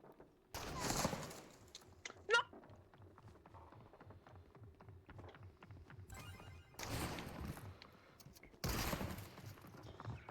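Gunfire bursts in a video game, several loud rapid volleys standing out over quiet background clatter, with long gaps between them.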